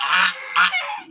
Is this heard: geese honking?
yes